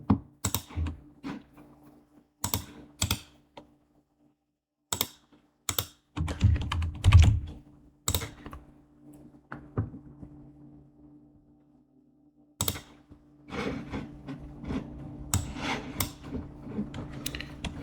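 Keys clatter on a computer keyboard in short bursts separated by quiet pauses, with a denser flurry of typing near the end; no one speaks.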